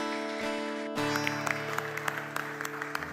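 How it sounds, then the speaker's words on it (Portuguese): A church congregation claps in scattered, irregular bursts over a steady sustained organ or keyboard chord. "Uma salva de palmas para o Senhor."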